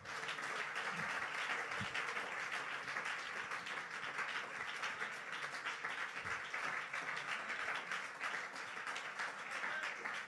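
A church congregation applauds steadily and continuously throughout, a dense wash of clapping heard from within the crowd, with faint voices mixed underneath.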